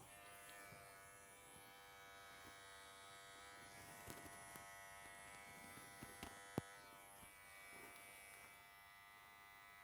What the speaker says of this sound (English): Titus trimmer.